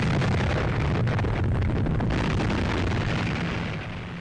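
Bombs exploding on and around a U.S. Navy aircraft carrier under attack by Japanese bombers in 1942, a dense, loud, rumbling roar of blasts and noise that fades slightly at the end, with no talking.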